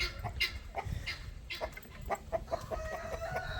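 Chickens cluck in a coop housing broad-breasted birds, with several soft clucks and short calls from close by, one bird repeating a rising note near the end, over a muffled low background.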